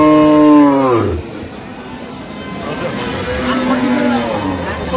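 A dairy cow at the Ambari cattle market, where cows are sold with their calves, gives one loud, close moo, then a fainter low moo follows amid crowd chatter and people talking.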